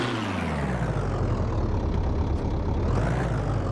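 A rough-sounding old vehicle engine in the game My Garage runs steadily at low revs, a loud continuous rumble that slowly rises in pitch with no talk over it.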